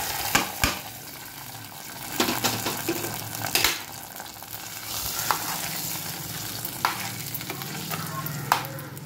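Curry-leaf tempering sizzles in hot oil and is then stirred into millet pongal: a continuous crackle with irregular spoon scrapes and knocks against the pot, close and fairly loud, with no talking.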